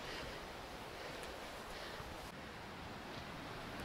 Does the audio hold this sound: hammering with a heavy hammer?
no